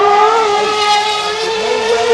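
A Gordon Murray supercar engine drones loud and close in a sustained, smooth, high-revving tone with stacked harmonics. The pitch shifts slightly as it passes.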